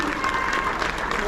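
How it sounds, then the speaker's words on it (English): Audience applause for a high school symphonic band at a spring concert, steady and dense clapping that fills the hall at an even level throughout. "take this glorious applause you are about to receive"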